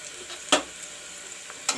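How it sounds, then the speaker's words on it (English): Onions fry in a pan with a soft, steady sizzle, broken by two brief scraping clatters of a spoon stirring them, quiet and close. "I will let the onions turn brown."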